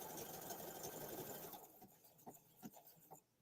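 A domestic sewing machine runs in a steady, loud whir of rapid stitching, then stops and gives a few short separate bursts as it stitches briefly in reverse, with no talking.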